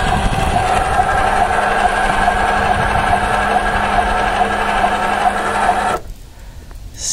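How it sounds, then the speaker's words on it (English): Small electric motor on an RV stabilizer jack lowering the jack, a loud steady whirring drone with a constant pitch that runs evenly for about six seconds and then cuts off abruptly. "you see it in action here. It's that little motor on the side"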